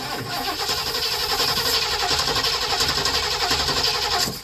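A car engine fitted with an Edelbrock carburetor cranks and catches, then runs at a loud, steady, rough idle for a few seconds, close by, with no talk.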